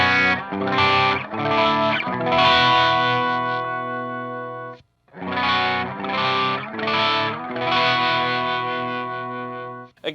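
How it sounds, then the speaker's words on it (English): An electric guitar plays big sustained chords through an overdrive pedal into an amp's clean channel, two phrases of strummed, ringing, distorted chords with a short pause between them, loud and close. "What I'm going to do is just play like, big chords like this"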